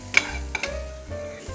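Eggs fry in a frying pan with a crackling sizzle, punctuated by a few sharp spatters and clinks as they are stirred, close and fairly loud.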